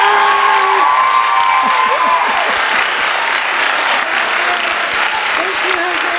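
Loud applause and cheering from an audience at a lively NYC event, with dense clapping, whoops and excited shouts layered over a roaring crowd close by for several seconds.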